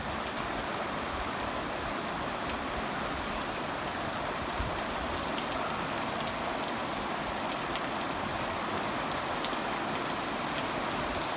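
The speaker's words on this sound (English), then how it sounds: "So this is a nice gentle rain." Steady gentle rain falling continuously, a soft even patter of drops with a faint hiss throughout, no voices.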